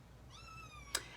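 A pet cat gives a single clear, drawn-out meow close by, followed by a short sharp tick, over a low steady hum with no talk.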